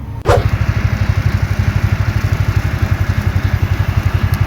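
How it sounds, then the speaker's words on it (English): A big farm tractor engine runs steadily at close range, a loud, even, fast-pulsing diesel chug with a brief sharp clack at the very start, no voices over it. "He brought the big tractor over."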